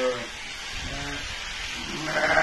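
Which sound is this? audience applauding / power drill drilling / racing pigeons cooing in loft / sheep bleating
sheep bleating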